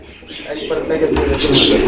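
Many caged pigeons on a farm coo in low, throaty bursts close by, with people talking over them.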